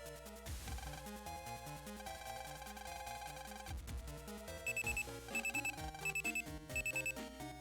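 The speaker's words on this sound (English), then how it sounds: "That's a lot of beeping." Beeping in the Mega Man Battle Network video game: short, shrill electronic beeps in rapid clustered bursts, repeating over busy chiptune game music.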